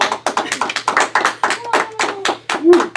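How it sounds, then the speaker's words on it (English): A crowd gives a lively round of clapping, dense and close, with overlapping hand claps rising and falling in bursts while a voice calls out over it near the end. "need a real big round of applause for Banana Muffin"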